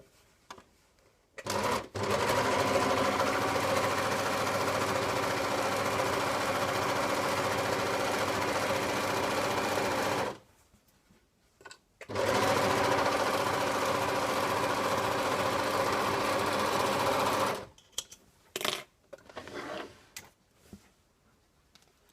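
A serger overlock machine sews the seams of a pillowcase in two long, loud, steady runs of fast whirring stitching, separated by a brief pause and followed by soft handling clicks.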